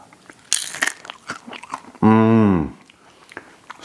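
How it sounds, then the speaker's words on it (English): Crisp bite into a dehydrated okra snack, a sharp close crunch followed by a second later; a short voiced hum sounds between the bites. "But I want you to hear how crispy these are."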